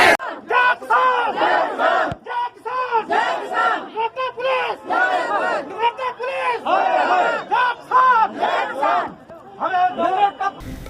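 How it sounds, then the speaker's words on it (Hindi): A large crowd of farmers gathered to buy seed shouts slogans against police and administration in loud, rhythmic bursts of massed voices, repeating in waves across the whole stretch. "इसके बाद उन्होंने पुलिस व प्रशासन के खिलाफ नारेबाजी शुरू कर दी।"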